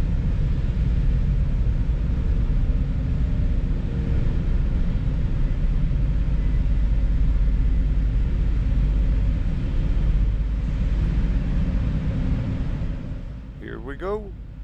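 Low rumbling engine noise fills the car deck of the Port Townsend ferry as vehicles start up to disembark, a steady drone with a brief rising whine near the end.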